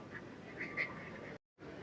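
Ducks quacking near the Old Mill in Pigeon Forge, a few scattered quacks over outdoor background noise, moderately near, with no talking.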